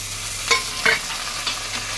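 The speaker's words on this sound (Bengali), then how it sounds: "তো পেঁয়াজটা ভাজা ভাজা হয়ে গেছে আমি এখন টমেটো আর কাঁচা লঙ্কা দিয়ে দিলাম" Tomato and green chilli stirred into onions frying in a pan, three short scraping stir strokes over a steady low sizzle, close and moderately loud.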